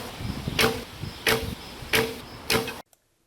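A traditional archery bow is shot with a three-under finger tab, heard as four quick, close string snaps with short whooshing releases in a steady rhythm, ending in abrupt silence.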